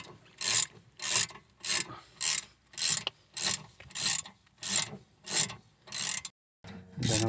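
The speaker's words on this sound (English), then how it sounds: "tightening them back up with the hex 7" A hex 7 key tightens the brake caliper slider bolts on a BMW E46 front hub: about ten evenly spaced rasping, ratcheting strokes, close and fairly loud, with a brief pause near the end and no talking.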